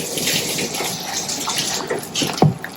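Water splashes and gushes in a short continuous pour into bhajiya batter, with faint clatter and a brief louder splash near the end.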